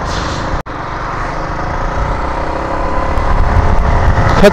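Vehicles on a rural road, recorded from an MT15 motorcycle ride: a loud, continuous engine and road roar with rising pitch, and a brief dropout early on.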